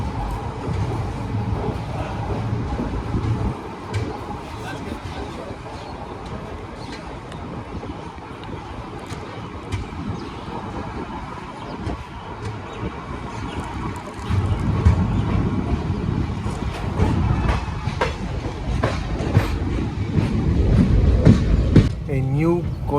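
The Teesta Torsa Express train runs through the cold night in North Bengal toward New Alipurduar Junction, with a steady low rumble and rattle of carriages that swells louder in the second half, plus faint clicking.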